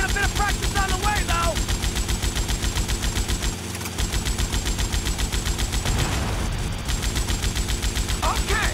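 Helicopter-mounted machine gun in GTA Vice City fires in long, steady rapid rattles over a droning rotor and engine, pausing briefly before resuming, with voices speaking in between.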